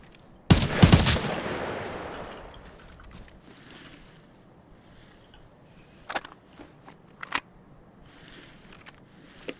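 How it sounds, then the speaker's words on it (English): Gunfire in the shooter Arena Breakout: a sharp, loud close-range burst of shots at the start with a ringing decay, then scattered quieter single shots a few seconds later. "Don't mind my shooting."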